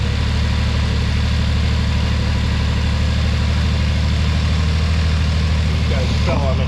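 A 1997 Honda Acty's engine idles loudly and close by with a steady, slightly lumpy pulse that runs throughout, and a voice is heard briefly over it.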